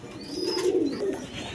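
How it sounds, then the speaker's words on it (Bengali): Pigeons in a coop, a pair of cream beauty pigeons among German beauty birds, give a soft, close, rolling coo that swells and fades over a moment, alone without talk. "দর্শকবৃন্দ, এখানে দেখেন এক পেয়ার কবুতর আছে"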